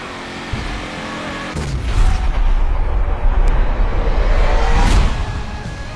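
A race car drives in a Forza video game, its engine droning and then rising sharply into a loud sustained roar with tire squeal and skidding, fairly close and without talk.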